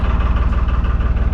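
A narrowboat diesel engine runs at a steady, loud idle with a low, rhythmic thrum and even pulsing, close by and with no talk over it.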